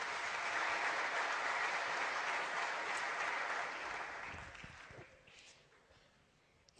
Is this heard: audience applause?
yes